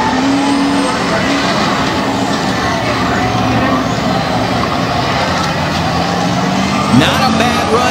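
Drag race cars launch off the line at a valley drag strip, a loud sustained engine roar filling the whole clip with a brief spike near the end.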